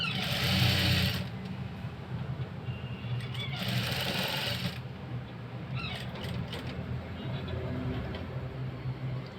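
A sewing machine stitches fabric for a patchwork blouse with piping, running steadily in bursts with brief pauses between, close by and moderately loud, with no talking.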